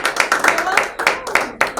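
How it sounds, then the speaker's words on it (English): A studio audience gives a round of applause heard as a series of sharp, rhythmic claps, almost in unison, about six or seven distinct beats in under two seconds, fairly close and loud. "Please let's welcome them with a round of applause."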